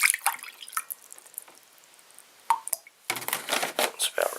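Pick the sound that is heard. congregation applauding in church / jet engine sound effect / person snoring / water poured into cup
water poured into cup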